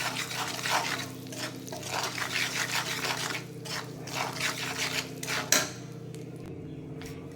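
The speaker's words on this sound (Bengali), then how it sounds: "এটা বেশ সুন্দর করে কষতে হবে" Spices with salt and dried chilli sizzle in a pan, with a steady frying hiss broken by scraping stirs and a sharp clink of the utensil against the pan near the end, close and fairly quiet.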